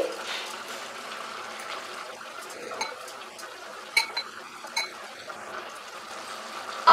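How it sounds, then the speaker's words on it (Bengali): Soaked, drained Gobindobhog rice is tipped into a hot pot and stirred, giving soft scraping, grainy rustles and light clinks of a utensil against the metal, fairly quiet and continuous with a few sharper knocks. "ফ্লেমটাকে বাড়িয়ে দিয়ে এর মধ্যে আমি অ্যাড করব গোবিন্দভোগ চাল"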